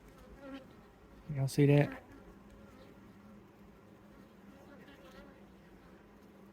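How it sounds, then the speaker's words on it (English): Honey bees drone around an opened hive during inspection, a steady buzzing that swells loudly in one brief burst while a person speaks. "The smoke will get the bees airborne for a little bit"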